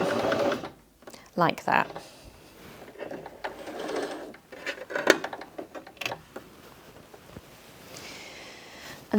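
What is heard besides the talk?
Bernette B35 sewing machine stitching on the spot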